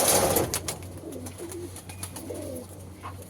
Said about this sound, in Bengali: আমি তোমাদের পায়রাকে ধরে দেখাচ্ছি।